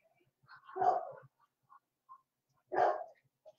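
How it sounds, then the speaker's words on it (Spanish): A dog barks twice, close by, with a pause of about two seconds between the two sharp barks and a few faint yips or soft sounds around them; no one talks. "Tony, deje esa ladradera."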